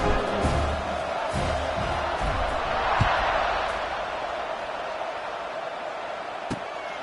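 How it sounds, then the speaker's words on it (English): Stadium crowd noise in a College Football 26 game, a steady broad roar at kickoff with a few sharp thuds, fairly loud and continuous throughout. "They're set to kick it off, and this crowd now ready to get behind them."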